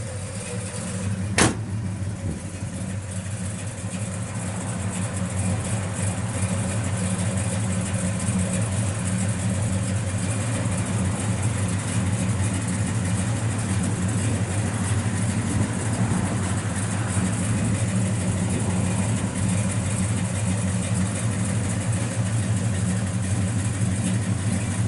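A 1967 Chevrolet Chevelle SS 396 V8 with an aftermarket cam idles steadily, a low, even engine rumble holding close and constant throughout with no talk over it.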